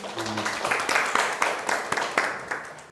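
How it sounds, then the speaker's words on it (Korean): An audience at a Buddhist talk on living with anxiety breaks into brief, moderately loud clapping that sounds close, with a voice speaking over the start. "오케이, 박수"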